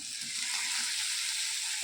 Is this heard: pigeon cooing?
no